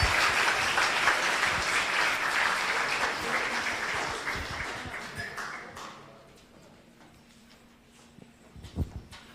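Audience applause after a musical performance at a Rotary club meeting, a dense, steady round of clapping from a room of people that fades out midway, followed by quieter room noise and a few scattered claps.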